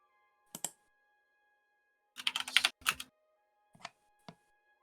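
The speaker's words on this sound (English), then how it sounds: "I'll type his names" Typing on a computer keyboard, a few isolated key taps followed by a quick cluster of clicks and then two more single presses, close and crisp against near silence.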